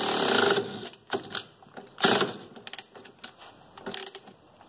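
A hand tool, likely a ratchet, works 13 mm bolts loose from the front spring perch of a 1985 Mercedes 300CD during a suspension rebuild, giving bursts of close, loud clicking and mechanical rattling with short pauses between.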